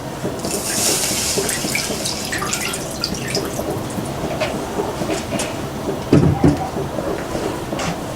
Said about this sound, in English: I will put water here to boil stuff quickly.